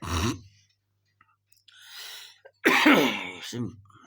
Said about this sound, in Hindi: खराश है, खांसी आ रही